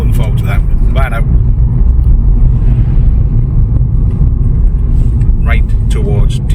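Inside a moving car on a country road, a loud, steady low road rumble and engine drone carry throughout, while people speak briefly at the start and near the end.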